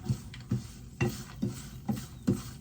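Ivy gourd curry fried in a pan, stirred with a spoon in a steady rhythm of about six scraping strokes over soft sizzling, close and fairly quiet.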